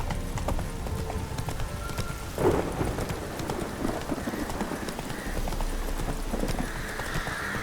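Hoofbeats of Geralt's horse Roach in The Witcher 3, a steady trotting clip-clop close by over rain and ambient game sound, with a brief snort or whinny partway through.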